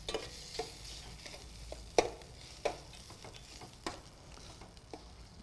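Bread bonda filling lightly sautéing in a pan, a quiet low sizzle with scattered spatula clicks and scrapes at irregular intervals, close and without speech.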